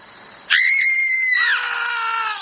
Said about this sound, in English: Screams of panic begin to carry through the night.